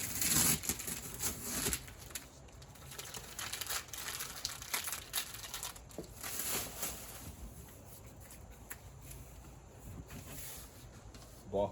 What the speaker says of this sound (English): tape is coming apart.